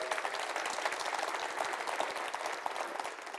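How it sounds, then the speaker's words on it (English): A conference audience at a PHP event in Bulgaria gives a dense, even round of applause, a continuous patter of many hands clapping throughout at a moderate, somewhat distant level. "Big applause to Yavor."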